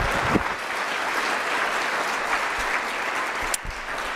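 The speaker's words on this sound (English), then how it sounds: "One more round of applause." Steady audience applause at a university character lecture fills the room at close range, with a few louder claps near the start and end and no talk over it.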